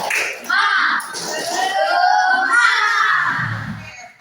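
Children at a primary school perform the tepuk semangat clapping chant, shouting rhythmic words together with quick claps in a loud, close, lively burst.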